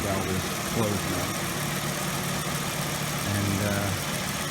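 A Mercedes ML320 W163 engine idles with its drain valve closed after a coolant refill, a steady low hum and vibration running throughout.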